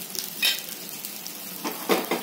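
A little oil drizzled around the edges of a wheat flour uttapam on a nonstick griddle crackles in short close sizzling bursts, separated by a quieter steady frying hiss.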